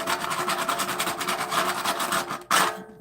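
Sandpaper rubs back and forth on a toy Tonka dump truck in quick, rhythmic, raspy strokes, close and moderately loud, ending with a sharp scrape before stopping.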